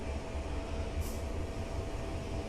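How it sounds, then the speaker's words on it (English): A Pendolino electric train passing in the rail game Train Simulator Classic on the West Coast Main Line, a steady low rumble and rolling roar, fairly faint and continuous. "Oh, Pendolino passing us"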